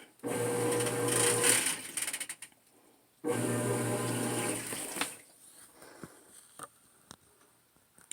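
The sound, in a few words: GE washing machine in soak phase washing jeans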